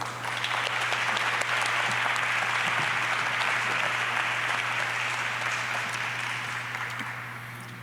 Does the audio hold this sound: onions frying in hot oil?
no